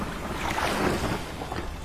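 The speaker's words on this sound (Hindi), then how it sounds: "मदन नाव को खेकर किनारे पर चल दिया।" Wooden fishing boat rowed toward the shore on open water, with a steady wash of water and wind noise close by, no voices.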